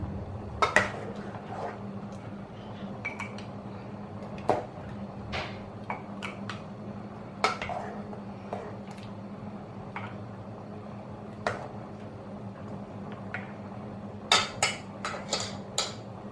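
Hot pepper pickle in tomato sauce, freshly boiled, spooned into 400-gram glass jars, giving scattered clinks and clatters of ladle against glass over a soft kitchen background hum, with a few louder bursts of knocks near the end.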